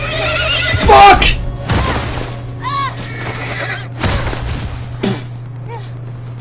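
A horse in the video game The Last of Us neighs and whinnies several times amid in-game thuds and booms, loud and close, while a player talks over it.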